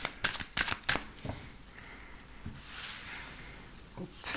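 Tarot cards shuffled for a reading, a few quick riffling bursts up front and then a softer, steady rustle of handled cards, close but quiet.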